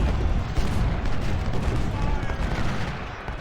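Dense musket volleys and booming artillery fire in the Civil War strategy game Ultimate General: Civil War, a continuous loud crackling barrage with heavy low thuds throughout.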